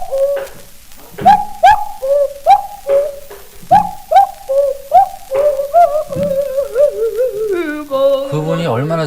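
A singer imitates bird calls in a 1935 recording of the Korean folk song Saetaryeong, a series of short cooing, whistled notes in a steady rhythm that slide into longer warbling phrases near the end.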